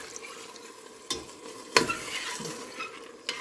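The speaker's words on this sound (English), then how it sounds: "I'm sorry with that scraping, y'all." A spoon scrapes and clinks against a pot while broth is stirred into Italian sausage stuffed pepper soup: a few sharp metallic scrapes spread over a quiet, faintly bubbling background, with no talking.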